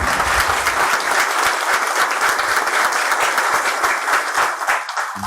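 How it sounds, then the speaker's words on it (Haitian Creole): Loud, sustained applause from a standing assembly at a formal ceremony welcoming a new bâtonnier, a dense wash of many hands clapping steadily throughout, tapering slightly at the end. "je vous demande d'applaudir vivement le nouveau bâtonnier, notre Pierre Louis"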